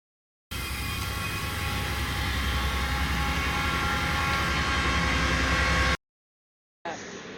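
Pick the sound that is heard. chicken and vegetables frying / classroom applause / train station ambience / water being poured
train station ambience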